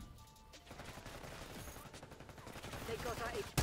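Gunfire in the video game Black Ops 6, a dense spread of shots and bursts with a voice talking over it, growing louder toward the end.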